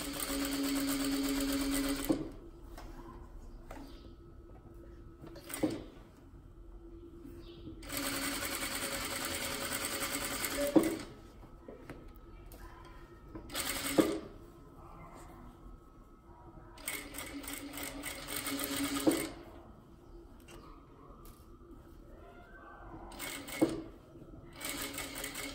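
A sewing machine stitches a child's dress along the interfacing in several bursts of steady whirring, separated by short pauses and soft handling clicks.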